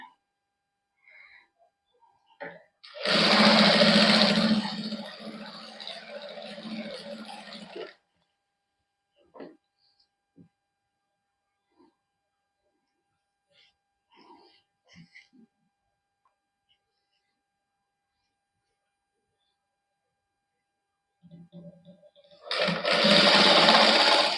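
A sewing machine stitching stiff cotton suit fabric runs in two bursts, a steady close whirring hum for several seconds and again near the end, with quiet handling and sparse talk between them.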